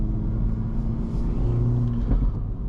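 Engine of a 2024 Acura Integra Type S, sharing its drivetrain with the Civic Type R, a steady low rumbling drone under load on back roads, fairly loud and close, with no speech.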